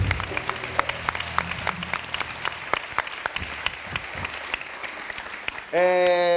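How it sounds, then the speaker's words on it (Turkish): A television studio audience applauds with dense, sharp claps for several seconds, and a voice cuts in loudly right at the end. "Ali'ye kocaman bir alkış alalım"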